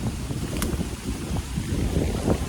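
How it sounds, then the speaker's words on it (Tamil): Strong wind buffets the microphone on open coastal land strewn with coconuts at Navatkuli near Jaffna, a continuous rough low roar with gusty swells throughout. "ஒரு நல்ல காற்று வீசுகிற இடமா இருக்கிறதால உங்களுக்கு சரியாக விளங்காமல் படலாம்"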